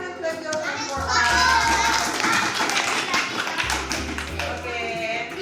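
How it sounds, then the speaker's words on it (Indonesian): A group of children clap their hands together in a classroom activity, a busy patter of claps over lively kid chatter and shouts, with an adult voice speaking at times. "Tepuk tangan, clap your hands for us."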